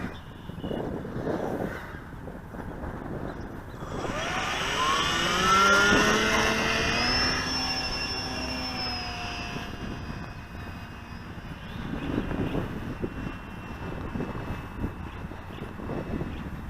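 An E-flite Apprentice S 15e electric RC airplane takes off at a park on a breezy day; its motor whine swells and climbs in pitch, then fades as it pulls away over steady outdoor wind noise.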